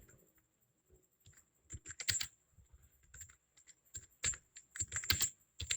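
Quick bursts of typing on a computer keyboard, close and clicky, coming in short irregular runs separated by brief pauses, with no talking.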